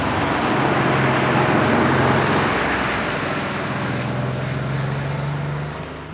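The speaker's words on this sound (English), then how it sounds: "Ooh, one more car coming. The sound check. Old Porsche." An old Porsche drives past on the Susten Pass in the Swiss Alps during a car meet, its engine a loud, close, steady drone with a low hum that fades slightly as it passes.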